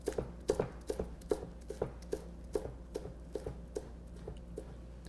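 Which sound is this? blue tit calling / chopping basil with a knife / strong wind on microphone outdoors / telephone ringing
chopping basil with a knife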